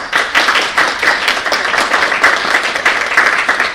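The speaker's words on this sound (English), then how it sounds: "And please, a round of applause." Audience applause at a school board meeting: a room of people clapping steadily, with individual claps audible in a lively, slightly uneven rhythm throughout.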